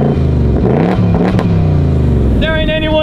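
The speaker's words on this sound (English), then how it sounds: "Did the car do all the revving?" A Hennessey car's engine revs on its own, loud and close, rising and falling in pitch, with a person speaking over it near the end.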